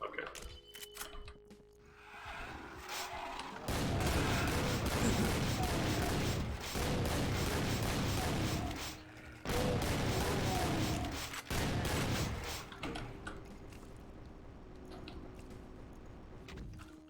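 A huge explosion in the Doom video game, with the Trailblazer mod's heat ray firing: dense, loud crackling blasts and rumbling bursts in several long waves, dropping out between them, with softer game sounds at the start and end.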